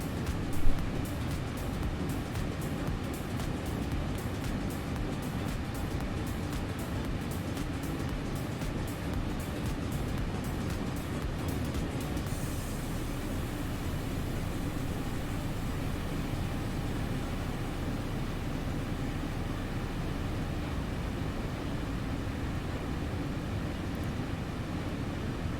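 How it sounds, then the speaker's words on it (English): Aircraft engine sound from X-Plane 11 engine mods, a steady, loud droning hum that continues unbroken for the whole stretch, with no speech over it. "So far, I like these engine mods. I like the sounds of them."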